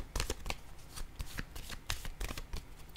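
Tarot cards are shuffled by hand in quick, crisp bursts of riffling and flicking, close up and fairly soft, with no speech.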